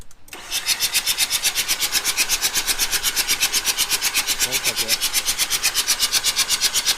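A 2006 Mazda RX-8 rotary engine cranking over on the starter without firing, a fast, even, rhythmic whirring pulse that runs steadily for several seconds, close and loud, with a brief voice under it.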